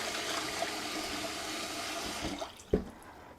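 Basmati rice being rinsed in water: steady running and swishing water from a tap, close by, ending with a few sharper splashes as the water is poured off.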